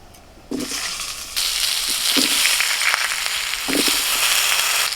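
Potatoes go into hot oil with whole black pepper and cumin, bursting into a loud, close crackling sizzle that jumps up sharply and then keeps going with sputtering pops.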